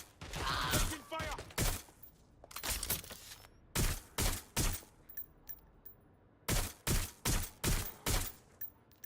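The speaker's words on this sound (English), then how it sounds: "Taking fire." Gunfire in the F.E.A.R. shooter game rings out in sharp, loud bursts of rapid shots, clustered volleys separated by short pauses over a low ambient rumble, with a brief voice early on.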